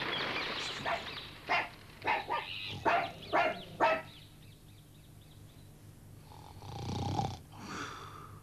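A cartoon snore at grandmother's cottage in Little Red Riding Hood rumbles in a run of short, rhythmic snorting pulses, then pauses before one long, deep breath, close and moderately loud.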